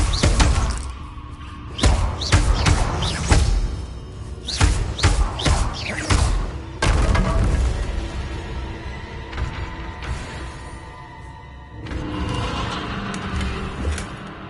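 Blasting-spell explosions in the Hogwarts Legacy video game, a run of heavy booming thuds and crashes with debris, strongest in the first seven seconds, then softer rumbling.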